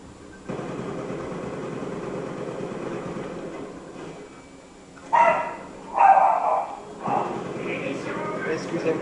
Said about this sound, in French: c'est mon chien qui vient d'aboyer en fait